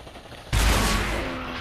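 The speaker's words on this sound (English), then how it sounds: "No, there's a rocket launcher here." A rocket launcher fires in the VR game Population: One, producing a sudden loud close blast that sustains as a broad roaring rush for about a second.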